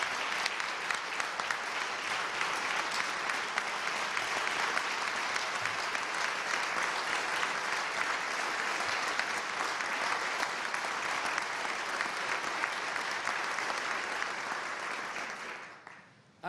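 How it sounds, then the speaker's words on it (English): Sustained audience applause fills a large hall at a Virginia governor's State of the Commonwealth address, honoring the state workforce. The dense, steady clapping holds for about fifteen seconds, then fades out near the end. "I hope you'll join me in a round of applause for our state workforce."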